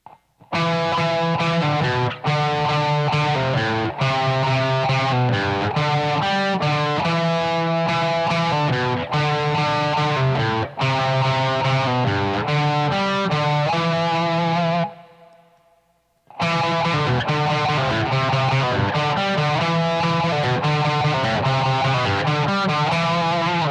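A heavily distorted electric guitar plays a fast, repeating riff, pausing briefly with a fading note before the riff starts again.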